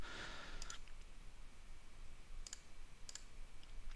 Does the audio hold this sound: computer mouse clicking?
yes